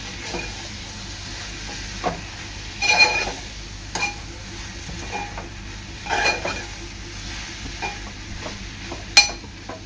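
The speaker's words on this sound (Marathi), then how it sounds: "आता हा जवळा पाच ते सात मिनटं शिजवून घेणार आहे" Dried shrimp (jawla) and brinjal cook in an oiled pan with a low, steady sizzle, broken by a few louder stirring scrapes and clinks of a utensil against the pan, with no one talking.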